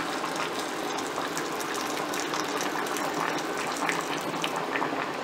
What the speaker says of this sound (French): Là on va rajouter un petit peu de bouillon et on va laisser cuire tranquillement.